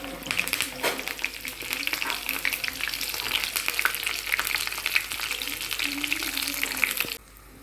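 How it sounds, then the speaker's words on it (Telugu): Garlic, cumin and curry leaves frying in hot oil for a tempering, a loud continuous crackling sizzle with stirring, ending abruptly. "వెల్లుల్లిపాయలు వేగనివ్వండి అలాగే కరివేపాకు"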